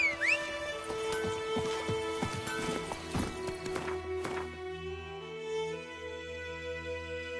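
Horse hooves clip-clopping in The Witcher 3, a quick run of hoof strikes over steady game music, easing off as the music carries on alone.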